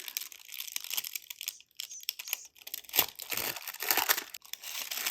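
Tissue paper being pulled and unwrapped from a heavy box holding Chanel No 5 soaps, a faint, close crinkling and rustling in irregular bursts.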